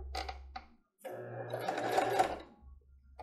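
Home sewing machine running a short burst of small zigzag stitches on children's underwear fabric, a close mechanical whir with a brief pause before it resumes.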